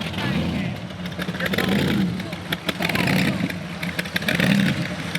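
Supercharged 406 small-block Chevy rat rod with a 6-71 blower, about 700 horsepower, rumbling and revving close by in a steady low roar with rising throttle swells, voices talking over it.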